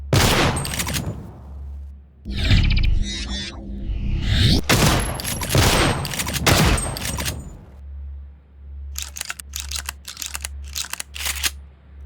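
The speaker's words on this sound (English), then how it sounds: "Each click and boom is well made, but the shot has a wobbly distortion to it." Throne S1 shotgun in the shooter game Prey, several loud booming blasts with pump and reload clicks between them, then a run of quick mechanical clicks, close and punchy.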